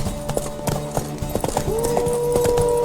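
Steady clip-clop of horse hooves trotting in The Witcher 3, rhythmic and fairly close, with a faint tonal hum and background bustle.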